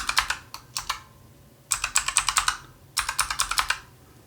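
A password is typed on a computer keyboard during a Windows Server 2019 setup, coming as quick clusters of crisp, close key clicks separated by short pauses.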